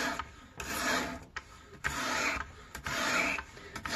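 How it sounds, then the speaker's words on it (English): A knife blade is drawn along a sharpening system in repeated pull strokes, each a rough, gritty scrape lasting about half a second to a second, evenly spaced and close up. "So pull stroke only off the blade coming back."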